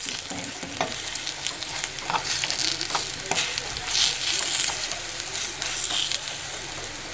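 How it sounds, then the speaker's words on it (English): Sweet plantains browning in a frying pan on a stove at medium heat, giving a steady close sizzle with scattered crackles and stirring scrapes, loud and continuous, with no talk. "I'm just going to brown your sweet plantains."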